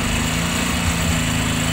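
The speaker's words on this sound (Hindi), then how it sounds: "ये देखो दोस्तों ये गाड़ी हमारी ओवर रेस हो गई" A Bajaj Discover motorcycle engine over-revving after a new carburetor is fitted, a steady, loud, buzzing high idle that holds constant without letting up, heard on its own with no talking.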